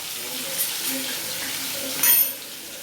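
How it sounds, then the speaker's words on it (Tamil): Tomatoes, onions and green chilies sauté in a pan for a prawn fry, giving a continuous close sizzle with a brief louder stir or scrape near the end. "தக்காளி வெங்காயம் அதே மாதிரி மீனுக்கும் தக்காளி வெங்காயம் பச்சை மிளகாய் இருக்கும், அது எல்லாத்தையும் போட்டு வதக்கிக்கலாம் மக்களே"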